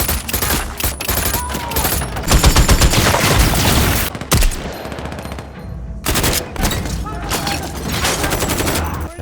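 Gunfire from a shootout in an action film: dense, continuous bursts of automatic weapons and rapid shots, loud and close, with brief gaps, layered over a busy soundtrack.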